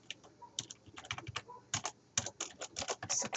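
Code being typed on a computer keyboard: rapid, irregular bursts of close key clicks, with short pauses between runs and a denser flurry of keystrokes toward the end, no voices.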